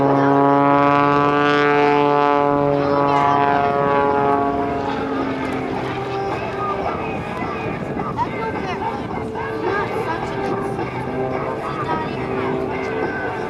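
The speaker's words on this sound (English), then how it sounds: "Extra 300L built in Germany for Michael Mancuso by Walter Extra with its American-built engine" At an air national guard open house airshow, a German-built Extra 300L aerobatic plane with an American-built engine drones loudly through a maneuver. The engine's strong tone shifts in pitch, then settles into a broader roar.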